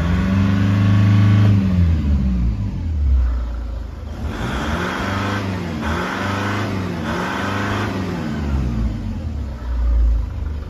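A Nissan Patrol Y61 with a ZD30 diesel engine, suffering a MAF sensor fault, revs repeatedly to a 3000 RPM limit, the engine note rising and falling in several loud, close surges without talk.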